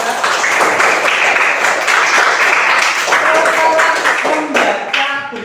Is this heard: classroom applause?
yes